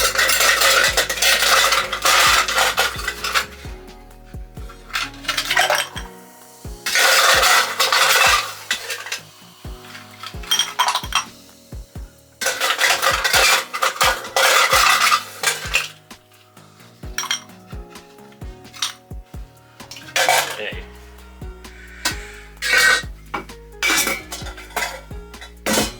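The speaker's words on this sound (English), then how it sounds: "now we're going to add the ice to the glass, and for that one I've got some nice cubed ice here" Cubed ice clinks and rattles into a glass while a Long Island Iced Tea is being made, with repeated bursts of clattering cubes, loud and close, separated by short quiet gaps.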